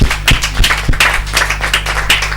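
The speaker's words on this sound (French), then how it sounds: "On applaudit." Close, loud clapping from a small group at a birthday celebration, a quick uneven rhythm of sharp hand claps over a low steady hum.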